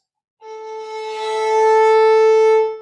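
A single bowed violin note starts with a rough, scratchy attack, then settles into a steady sustained tone that swells slightly before cutting off.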